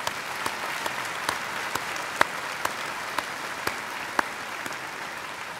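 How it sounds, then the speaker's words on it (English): Sustained audience applause at the Millersville University 2014 winter commencement ceremony, a steady wash of many hands clapping with a few sharper individual claps standing out, moderately loud and continuous. "a round of applause"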